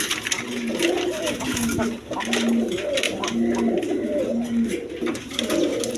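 Red Bombay pigeons coo in a repeated, rhythmic series of low, rolling calls, close and clear over a soft background murmur.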